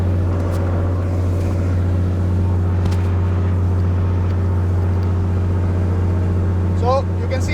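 The piston engine of a light aircraft runs steadily during a ground ignition check at about 1800 RPM, a loud, constant droning hum with low throbbing tones throughout.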